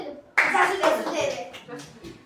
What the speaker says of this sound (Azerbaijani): Cəsur alqışlayırıq.